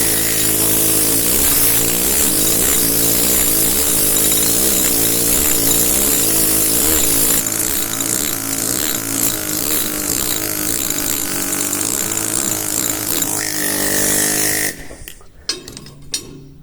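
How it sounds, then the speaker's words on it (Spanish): A pneumatic hammer drives a pointed chisel into stone during carving, giving a loud, continuous rapid hammering buzz that runs unbroken for about fifteen seconds before cutting off, followed by a few faint scattered taps. "Esto es con el martillo neumático"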